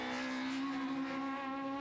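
Peugeot 306 Maxi two-wheel-drive rally car racing on a stage of the 1998 Ypres Westhoek Rally in Belgium, its engine holding a loud, steady high-revving tone throughout with no speech.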